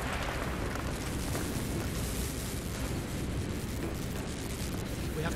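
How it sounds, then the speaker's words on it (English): Wall blown apart with explosives in Call of Duty Black Ops, a loud sustained roaring blast with rumbling debris that fills the whole moment without letting up, no voices. "let's get a little bit away from this wall before we detonate"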